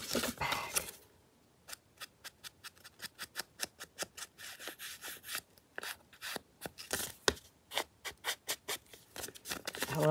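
Scissors snip through very fine paper in a rapid series of short, crisp cuts, with a brief rustle of paper handling at the start and no talking.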